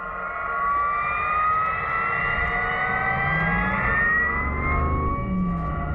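A BMW i8 plays its artificial spaceship-like engine sound, a loud steady synthetic whine with several tones sliding slowly upward, heard on its own without talk.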